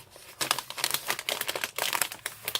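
Crinkly plastic of an advent calendar bag being unwrapped, a close, busy run of rustles, crackles and small tears lasting a few seconds with no talking.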